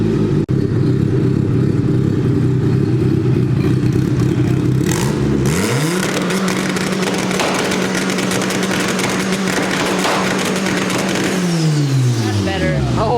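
A budget Honda Civic wagon engine revs hard, loud and close, with a sustained roar that drops then climbs again, crackling pops and bangs mixed in, and a voice talking over it.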